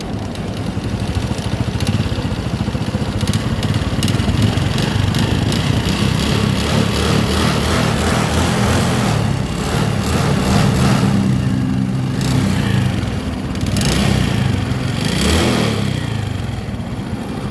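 A Honda motorcycle engine with a worn roller after overheating and locking, running loud and rough close by, a steady mechanical drone with rattly knocking texture and slight rises in revs throughout.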